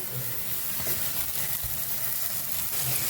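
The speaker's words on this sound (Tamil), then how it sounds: "இந்த வெங்காயம் தக்காளி எல்லாத்தையுமே நல்லா சுருளை வதக்கிக்கலாம்." Onions and chopped tomatoes saute in a pan for a mushroom chukka, giving a steady hiss and sizzle that runs throughout, close and constant with faint stirring scrapes and no talking.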